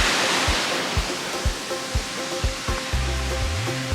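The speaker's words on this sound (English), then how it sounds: "First waterfall on the hike." Steady broadband rushing of a waterfall beside a hiking trail in Maui, close and constant, with a few soft thumps and a low hum entering near the end.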